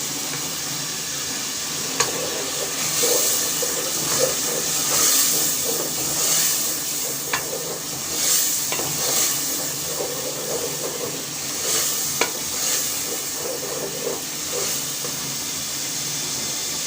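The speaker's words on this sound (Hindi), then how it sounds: "इन्हें अच्छी तरह से मिक्स करेंगे। साथ में ऐड करेंगे लहसुन अदरक का पेस्ट।" Ginger garlic paste added to a pan for a black chickpea dish sizzles with a steady hiss, swelling in bursts as it is stirred, with occasional spoon clicks against the pan.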